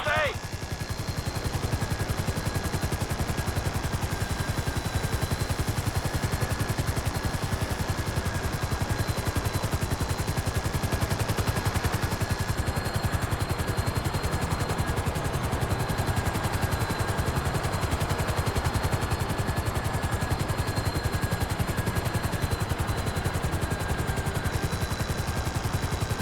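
Constant loud helicopter rotor drone hovering in a GTA game on PS5, a steady chopping roar that runs without a break, with rapid gunfire rattling faintly underneath.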